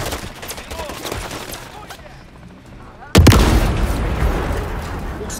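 A helicopter is destroyed in Call of Duty Modern Warfare III. Scattered gunfire gives way to a sudden loud, close blast, followed by a sustained heavy roaring rumble.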